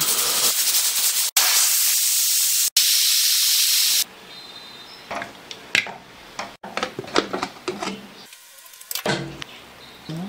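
A pressure cooker on the stove hisses loudly while meat cooks inside, with several seconds of steady steam hiss that then breaks into short, sharp bursts and sputters.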